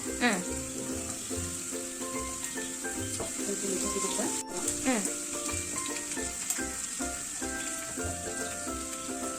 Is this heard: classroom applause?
no